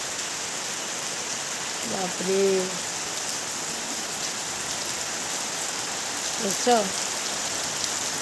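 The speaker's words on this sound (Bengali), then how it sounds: "আর ক্রমশ বৃষ্টিটা মানে বাড়ছে, এখন তো বেশ জোরে সোরেই নামছে" Heavy rain pours steadily as a dense, constant wash of hiss over a roof and tiled floor during a storm, with brief spoken exclamations rising above it twice.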